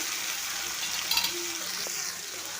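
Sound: tomato frying in a pan for fish curry

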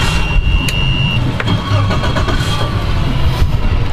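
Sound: Glasstream 273 SCX boat engine starting

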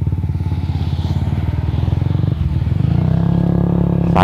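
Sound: motorcycle riding over mud

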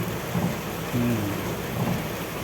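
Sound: heavy rain in Chirala

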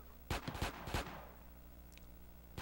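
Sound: gunfire in the video game GTA San Andreas

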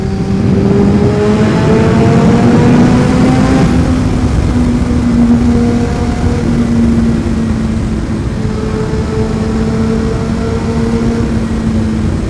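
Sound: Yamaha motorcycle engine running

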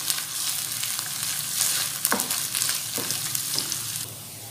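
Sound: ginger garlic paste frying

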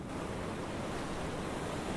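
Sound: sea waves after the rain

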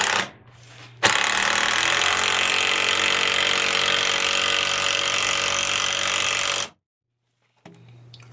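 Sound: power drill driving a screw into a wall

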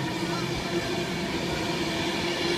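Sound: Pendolino train passing

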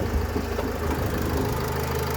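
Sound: Nissan Primastar 2.0 diesel engine idling

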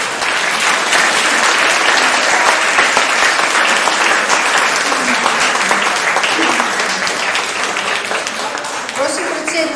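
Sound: applause for the jury and high school poets

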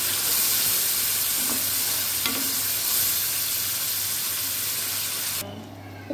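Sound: stirring turmeric and lemon juice mixture in a pan

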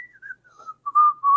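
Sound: voice imitating a whistled tune

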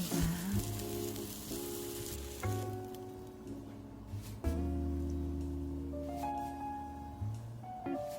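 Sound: egg dish sizzling as it pan-fries until golden

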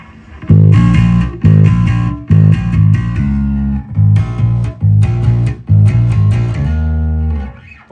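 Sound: electric bass through distortion preamp

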